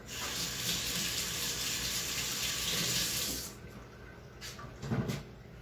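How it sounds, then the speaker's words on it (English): A kitchen sink tap runs in a steady gush while hands are washed, then shuts off partway through, leaving a few quieter drips and small clatters nearby. "Let me wash my hands real quick"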